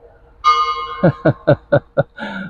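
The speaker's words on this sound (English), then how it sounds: "the bell in the church going behind me. Yeah, so it is striking" A church bell in Rojales strikes the half hour with about five evenly spaced, ringing strokes, loud and close, after a brief sustained tone at the start.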